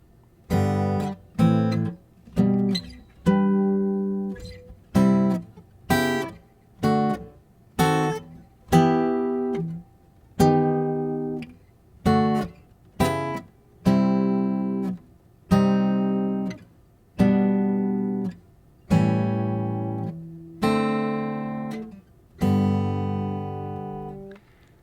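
Acoustic guitar plays a song in traditional chord voicings, a sequence of strummed chords each ringing out clearly before the next, close and full-bodied, with no voices.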